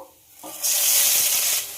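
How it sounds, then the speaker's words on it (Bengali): A sudden loud sizzle erupts as wet onion paste hits hot oil, then hisses strongly and steadily close by. "তেলের মধ্যে দুটো বড় সাইজের পেঁয়াজ বেটে রেখেছিলাম সেটা দিয়ে দেবো"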